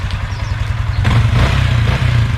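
A Yamaha Sniper 155 motorcycle engine runs close by with a rough, pulsing putter, rising to a louder throbbing rev partway through; the bike has a fuel filter fault causing sputtering.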